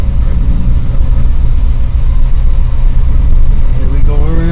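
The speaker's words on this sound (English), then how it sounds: "This truck's pretty quiet, got a decent sized muffler on it." A pickup truck with a large muffler idles with a steady, low, muffled rumble throughout. A voice talks over the engine noise.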